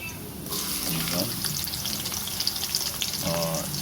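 Chopped onion for valenciana is stirred into an oil-filled pan, where it fries with a loud, continuous sizzle. Scraping utensil sounds sit close by, and there is no speech.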